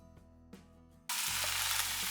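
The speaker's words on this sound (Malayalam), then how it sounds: "വീണ്ടും നല്ലപോലെ മിക്സ് ചെയ്യാം." Fried paneer stirred into chilli sauce in a pan sends up a sudden loud sizzle that stays steady and close after a quieter opening of soft clinks.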